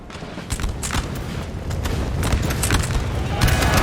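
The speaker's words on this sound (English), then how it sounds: "Ooh, that was a nice volley, though." Musket volleys and booming battlefield fire from Napoleon Total War, a dense roar of overlapping shots and rumbling blasts that swells slightly toward the end, with no talk over it.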